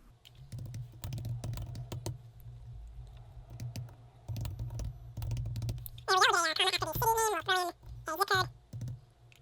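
Irregular clicking keystrokes on a computer keyboard while entering an address into a business card layout in InDesign, heard up close, with a person talking over part of the typing.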